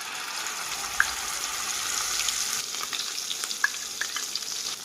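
Spice paste sizzles steadily in hot oil and ghee in a kadai with cumin, bay leaf and cinnamon, a loud continuous frying hiss with occasional pops and stirring scrapes.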